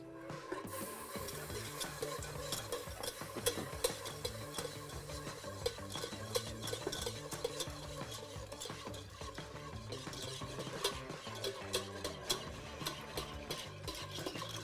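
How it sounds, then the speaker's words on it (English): Milk being whisked into a roux in a pan for mac and cheese sauce, a quick continuous metallic stirring and scraping with light clinks and a faint sizzle, close and steady without talking. "You wanna make sure to add in the milk pretty slowly while you're mixing so that you don't get any lumps."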